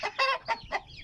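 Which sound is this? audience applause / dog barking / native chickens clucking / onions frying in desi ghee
native chickens clucking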